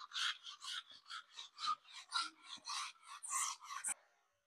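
Sandpaper rubbed by hand over a wall before repainting, a steady series of about a dozen rasping strokes in an even rhythm, close and fairly loud with no voices.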